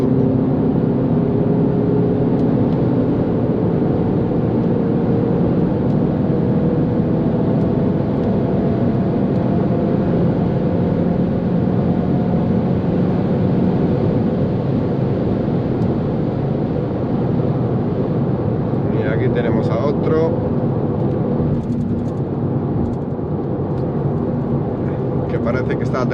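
A 2021 Audi TT 45 with a turbo accelerates on the German Autobahn from inside the cabin, a loud steady engine and road roar with someone talking over it throughout.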